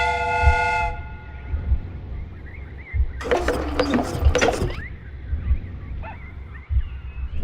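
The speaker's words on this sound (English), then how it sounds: "The steam whistle is ready to be used." A steam train whistle replica in the Sherlock Holmes: Crimes and Punishments video game sounds one loud, harsh blast over a constant low mechanical rumble, with a brief tonal note just before it.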